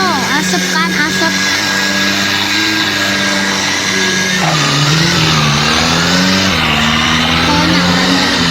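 A Toyota Fortuner engine in a video game drones loudly and continuously, its pitch climbing and dipping through revs, with a speaker talking over it.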